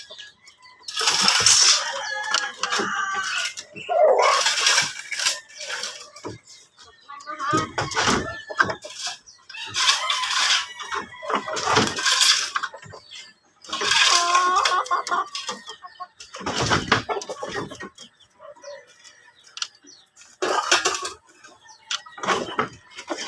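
Pet chickens clucking at feeding time, in bursts that come and go, while a person talks to them on and off over the birds.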